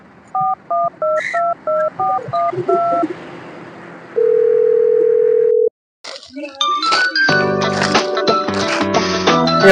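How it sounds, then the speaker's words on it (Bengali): Phone call being placed: a quick run of DTMF keypad beeps, then a long steady dial tone, followed by a busier electronic ringback or melody tone, all loud and close with no talk. "এবার দয়াকে ফোনটা লাগাই তো দেখি।"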